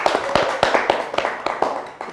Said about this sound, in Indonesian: Semua mungkin bisa ucapkan salam dan memberikan tepuk tangan untuk Maria.